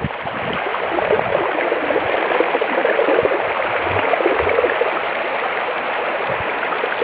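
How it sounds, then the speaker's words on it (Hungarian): Strong current of floodwater rushing through the Rába valley, a loud, continuous broadband roar of moving water with no pauses, close and steady throughout. "Hát itt aztán van sodrás."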